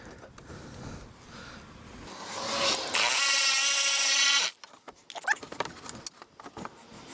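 A power drill spinning out a front bumper bolt on a 2019 Chevrolet Colorado, whining steadily and loudly for about a second and a half mid-clip, surrounded by close clinks and handling noises.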